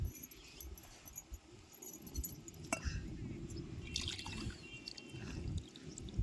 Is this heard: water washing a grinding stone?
yes